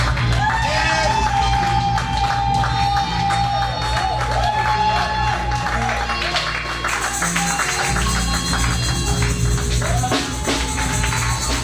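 A church congregation applauds and cheers during a Sunday service: dense, loud clapping with whoops and shouts that carries on without a break from start to finish.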